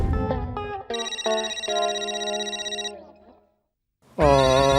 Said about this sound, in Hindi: गया माधवी का फोन, मतलब घर पहुंच गई माधवी